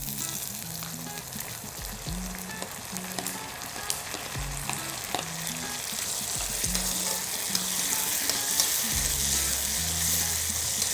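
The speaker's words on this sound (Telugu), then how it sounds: "ఇది కూడా కొంచెం ఒక 2 minutes పడుతుందండి ఫ్రై అవ్వటానికి." Onions and tomatoes frying in a pan for tomato rice, a steady close sizzle with occasional stirring scrapes and low thuds throughout, no talking.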